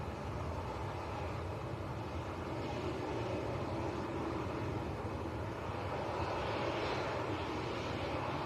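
Airplane landing in crosswinds at Leeds Bradford Airport, heard as a steady, broad engine roar that swells slightly near the end, with no voices.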